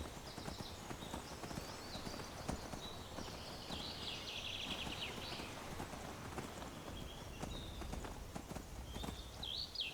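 Horse hooves clip-clopping at a fast, steady rhythm across open ground in Skyrim, mid-level and continuous, with faint bird calls chirping overhead.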